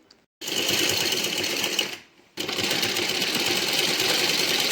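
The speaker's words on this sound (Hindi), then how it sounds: "अब हम दूसरे लटकन की भी सिलाई कर लेते हैं" A sewing machine stitches a tassel for a blouse back-neck design, running loud and close in two steady bursts with a brief pause between them.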